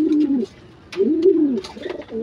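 Pigeons coo in two or three soft, rounded phrases close by, with brief gaps between calls and no talking.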